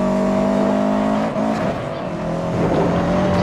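Steady, loud engine drone of a Subaru Impreza in the Need for Speed Most Wanted racing game during free roam on a dirt track, holding a sustained rev with slight pitch shifts and faint tire noise.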